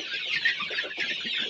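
Two-month-old village chickens, some 170 on a small farm, squawk and cluck together while waiting for feed, a constant crowded chorus of overlapping calls with no speech.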